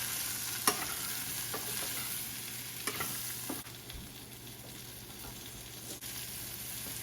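Ingredients for an Onam sadya dish, salted and softening in a pan, sizzle quietly while a spoon stirs and knocks against the metal in a few sharp taps, faint and close with no talking.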